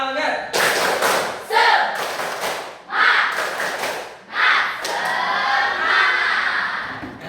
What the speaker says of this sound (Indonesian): Oke, kita tepuk semangat sama-sama ya. 1, 2, 3, tepuk semangat.